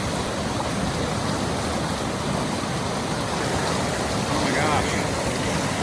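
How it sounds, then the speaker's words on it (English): Raging whitewater rapids on the Deschutes River in a canyon, a loud, continuous broadband rush of churning water that stays steady throughout. "This river is raging."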